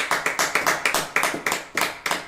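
A church congregation claps in quick, even rhythm, a run of sharp, close hand strikes repeating several times a second without pause.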